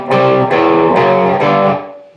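A distorted electric guitar plays the walk-up from a song as four loud, ringing chord strikes spaced about half a second apart, each sustaining into the next before the last one fades out, close and alone.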